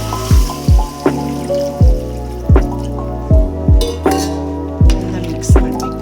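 Water pours into a pot of chicken masala gravy in loud, close, evenly spaced glugging drops, each one a quick falling plop, with no voices.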